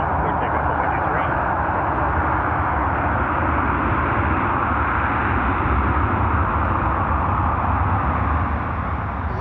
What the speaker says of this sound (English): Lots of reverse thrust.